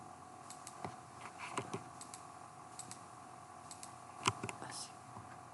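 Faint, scattered clicks of a computer keyboard and mouse, a few sharper taps standing out against a quiet room background while someone works at a computer.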